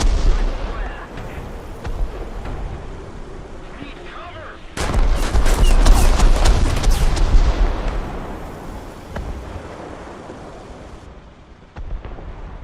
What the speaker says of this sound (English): Get my artillery ready to fire at the Bagel Panzer